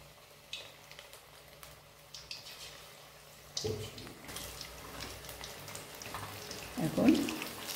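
Chicken pakoras frying in oil, a low, steady bubbling sizzle with occasional clinks and splashes of handling, under a voice speaking quietly.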